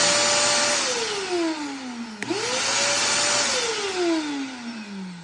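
A Craftsman wet/dry vacuum runs loud and steady close by, its motor whine sliding down in pitch, cutting off briefly, then spinning back up and winding down again.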